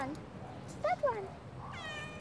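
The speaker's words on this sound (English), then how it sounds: "Who's that sleeping cat over there?" A cat in a video game gives a pair of short, high meows, moderately loud over a faint background hum with a soft trailing tone at the end.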